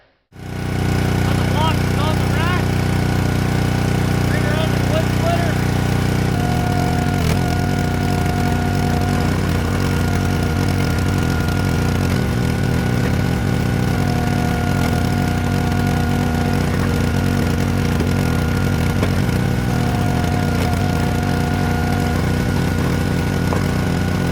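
A small engine on a wood splitter runs steadily and loud throughout, a constant droning hum with a few faint higher tones layered over it.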